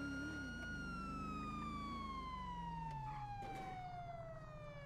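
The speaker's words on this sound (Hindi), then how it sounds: "सायरन बजा" A police car siren in a Crime Town roleplay video game wails in long, smooth falling sweeps, loud and steady with a low engine-like drone beneath and no talking over it.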